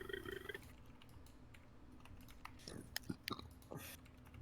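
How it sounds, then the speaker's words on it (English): Fast, furious typing on a computer keyboard, a dense run of quiet clicks with a few sharper key strikes, faint and close under low room noise, no talk. "furious typing"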